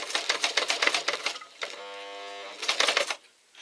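Sewing machine stitching a fabric pouch, running in bursts of rapid mechanical clatter with a steadier humming run in the middle, close and fairly loud.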